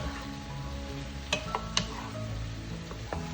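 Jackfruit cooks in a pan for ginataang langka with a soft, steady sizzle, while a utensil stirring it adds a few sharp clicks and scrapes close by.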